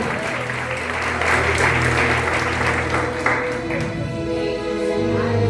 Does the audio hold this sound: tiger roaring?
no